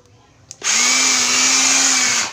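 An old second-hand cordless drill spins up on battery power with a click and then a loud, steady high whine for about two seconds before cutting off.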